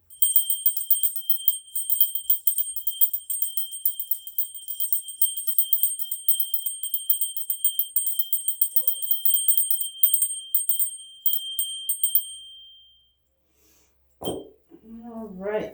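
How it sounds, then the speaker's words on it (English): Small bells rung continuously to clear the energy in a room, a bright rapid tinkling with sustained high ringing tones for about twelve seconds, then fading to silence before a speaking voice begins. "Cover your ears if you don't like the sound of bells"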